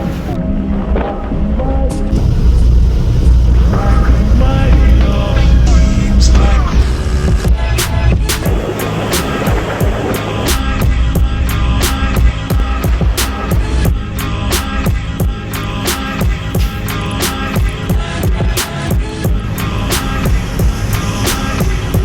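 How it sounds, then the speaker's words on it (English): Ferry crossing to the Thai mainland from Koh Samui, a loud steady engine and water rumble with wind buffeting the microphone and scattered knocks and clatter aboard. "we boarded our ferry back to the mainland of Thailand"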